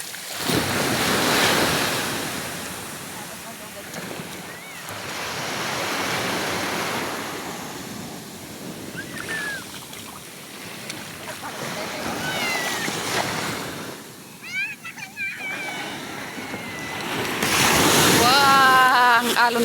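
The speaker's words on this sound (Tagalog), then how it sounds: "Wow, ang alon talaga." Ocean surf along Dolo Boulevard rolling in and breaking in long swells under steady wind buffeting the microphone, with people chatting and calling out between the crashes and a louder surge near the end.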